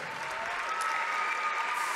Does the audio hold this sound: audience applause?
yes